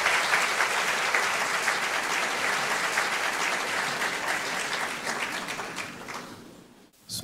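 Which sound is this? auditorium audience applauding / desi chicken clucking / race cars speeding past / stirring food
auditorium audience applauding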